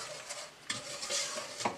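Sugar filling for a pecan pie being stirred in a pan, with soft scraping swirls and a couple of light utensil clinks against the pot, close and alone with no talking.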